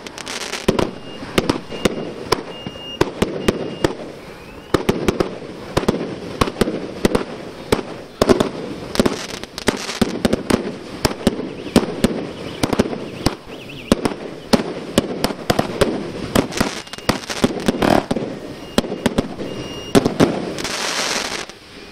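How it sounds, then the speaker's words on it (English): Fireworks and firecrackers at a Tibetan New Year's Eve celebration crackle and bang in dense, rapid bursts for the whole stretch, loud and close, with sharp pops layered over a continuous rumbling roar. "fireworks."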